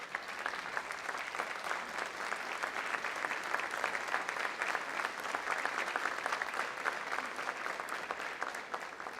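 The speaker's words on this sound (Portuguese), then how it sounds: "Vamos nos levantar aplaudindo ao Senhor por esta palavra." A church congregation applauds together, a dense, steady wash of clapping that holds at an even level from start to finish with no voices standing out.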